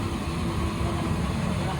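A 2004 Toyota Vios idles through an aftermarket exhaust fitted with a resonator, giving a steady low rumble that holds constant for the whole short stretch, close by and with no talk over it.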